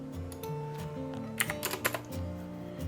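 Mouse clicks while sketching in Inventor CAD software, a close, quiet run of crisp clicks in a short cluster under a soft, steady background tone.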